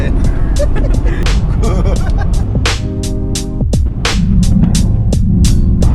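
A car drives along with a low, steady rumble and hum from inside the cabin, while people talk over it throughout.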